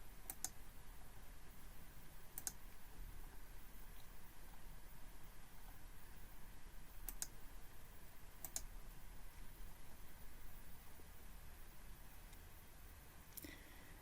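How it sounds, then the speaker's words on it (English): A computer mouse clicks while references are selected in EndNote, with a few sharp, isolated clicks spread across a quiet stretch over a steady hiss. "Now I'm going to select the references and books that I want to export to EndNote by clicking the"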